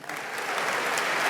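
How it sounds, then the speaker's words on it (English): Audience applause at a large technology keynote, a short burst of dense clapping from a big crowd, steady throughout. "can you just, with a round of applause, who uses ChatGPT?"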